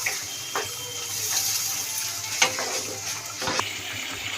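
Water poured into a simmering fish curry masala makes a soft, steady hiss and rush, with a few faint knocks and clinks scattered through it.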